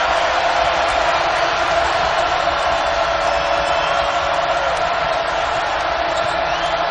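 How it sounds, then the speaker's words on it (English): A basketball arena crowd at a college game between Texas and Kansas roars loudly and continuously, a dense wall of cheering that never lets up. "The crowd feels a surge here"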